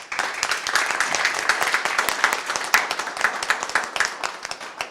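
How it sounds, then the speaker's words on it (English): An audience at an energy management leadership awards ceremony claps for the winners, dense crowd applause with crisp individual claps rising and falling steadily throughout. "Let us give them a big applause."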